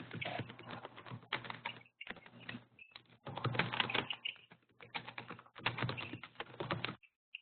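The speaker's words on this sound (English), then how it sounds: "a lot of rapid typing going on there" Rapid typing on a computer keyboard comes through an open webinar microphone as dense bursts of clattering keystrokes separated by short pauses, fairly faint and bandwidth-limited, with no talking.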